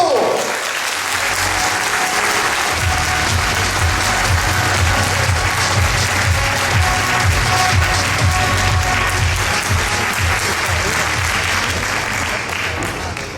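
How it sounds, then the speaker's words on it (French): A large audience at a public meeting in Millas applauds loudly and steadily for about thirteen seconds, a dense continuous wash of clapping with murmuring voices and a low rumble beneath. "Une ovation d'applaudissements"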